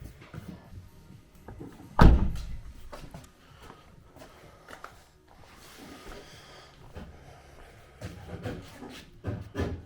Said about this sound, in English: Whilst you hear all this knocking noise, as Ian's underneath the car